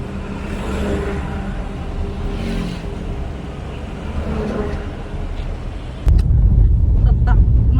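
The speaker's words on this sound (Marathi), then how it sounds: "असली जोरात गाडी चालवत असते ना बघत" A car driven fast by a father, its engine and road rumble loud and steady with wind noise throughout, growing heavier and louder in the last couple of seconds.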